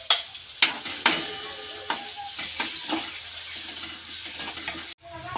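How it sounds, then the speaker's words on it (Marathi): Chopped onion sizzles in hot oil in a kadhai for a chicken sukka: a steady close frying hiss with sharp clatters of stirring at the start, ending abruptly. "यामध्ये चॉप केलेला कांदा मी टाकत आहे."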